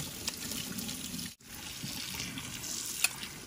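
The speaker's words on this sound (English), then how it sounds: "now rinse it out with cold water" Cold tap water runs steadily over beef tripe in a sink, a continuous near splashing that breaks off for a moment partway through and then resumes.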